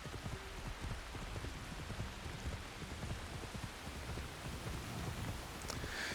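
A steady downpour in the video game Assassin's Creed Shadows hisses and patters continuously, thick and close, with a faint low rumble underneath and nobody speaking.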